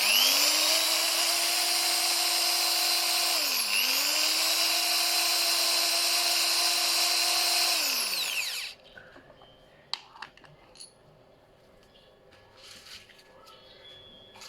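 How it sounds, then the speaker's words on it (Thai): A 500-watt impact drill, powered by a 1000W inverter, whirs loudly and steadily for about eight seconds, dipping briefly in pitch once, then stops, leaving faint clicks and handling noises. "เดี๋ยวเรามาลองสว่านตัวนี้นะครับ สว่านกระแทกนะครับ 500 วัตต์นะครับ"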